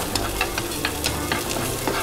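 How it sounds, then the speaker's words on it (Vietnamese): Garlic and shallots frying in hot oil, a steady bright sizzle with scattered crackles and pops. The sound runs continuously with no voices over it. "Bên này là phi tỏi, bên này là phi hành nhiên."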